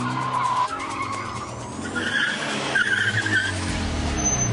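A supercar skids in a motorsport driving challenge, tyres squealing loudly while the engine roars steadily, then the tone shifts as the car slides around a turn.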